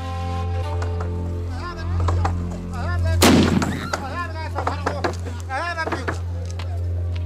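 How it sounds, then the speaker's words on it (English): A heavy gunfire blast heralds a prince and his entourage arriving at a palace, one loud booming report that rings out while someone narrates steadily and other voices murmur in the background. "Preceded by the roar of gunfire, the prince and his entourage move toward the palace's rear esplanade."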